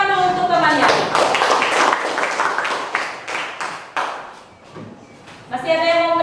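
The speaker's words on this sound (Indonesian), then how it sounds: "Tepuk tangan dulu untuk temannya." Students in a mathematics classroom clap for a classmate, a short burst of uneven hand claps that trails off, with a teacher's voice speaking before and after.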